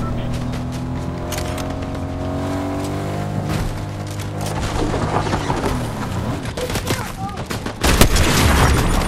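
Gunfire in the video game Fortnite, with bursts of rapid shots and a vehicle engine droning under game noise, and a few louder bangs toward the end.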